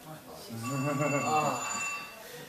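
A phone's ringtone plays a bright, sustained electronic chime for about two seconds, moderately loud and close, with no talk over it.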